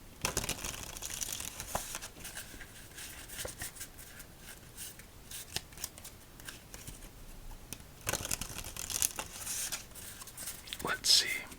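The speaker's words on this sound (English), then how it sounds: "as we shuffle up" A deck of playing cards being shuffled up close for a solitaire game, soft riffling and crisp flicking bursts, with quiet handling sounds throughout and a louder flurry near the end.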